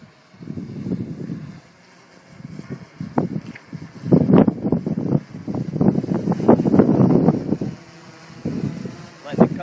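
Gusty wind of about 25 mph buffets the microphone outdoors during a drone return-home flight test, coming in rumbling, uneven bursts that swell and fade in loudness over the clip.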